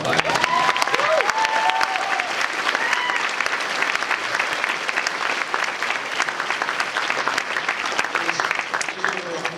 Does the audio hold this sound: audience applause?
yes